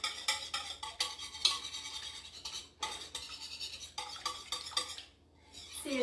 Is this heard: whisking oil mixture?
yes